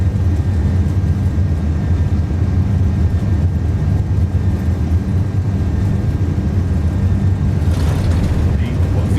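Steady low roar of iniBuilds Airbus A330 jet engines at takeoff power during the takeoff roll in Microsoft Flight Simulator 2024, a constant loud rumble throughout with no talk over it.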